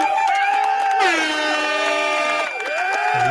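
Blaring air horn sound effect in long harmonic blasts that shift pitch, loud and close, with a brief drop and a fresh blast near the end.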